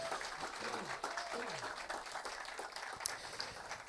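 A church congregation applauds and cheers in a large, reverberant hall, a steady wash of clapping and voices sustained throughout, with talk mixed in.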